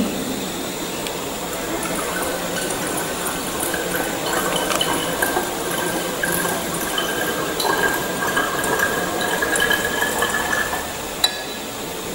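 Steady trickling of distilled water into a 100 ml flask, with a constant wash of liquid noise and a faint clink near the end.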